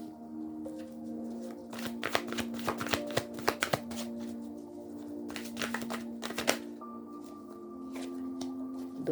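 Tarot cards being shuffled by hand, a series of crisp riffling bursts and soft slaps in close, quiet surroundings, with no one speaking.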